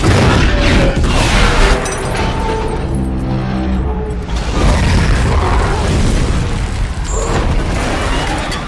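A large blast in an action movie scene where apes are injured and buried under collapsing rubble, with loud booming rumbles and crashing debris that swell, ebb and surge again across several seconds.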